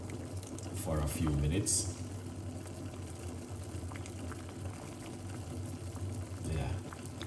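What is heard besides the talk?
lemon boiling in water for tea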